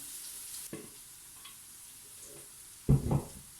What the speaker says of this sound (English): I'm just going to now pour all of the contents of this into this pan here